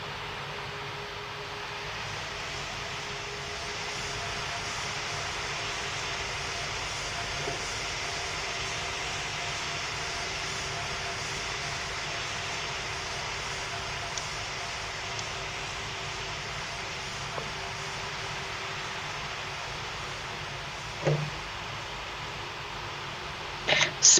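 Emirates airliner engines rumble as a steady, faint, distant drone in the Roblox game Pilot Training Flight Simulator, continuous for a long stretch with a few soft clicks near the end, no talking.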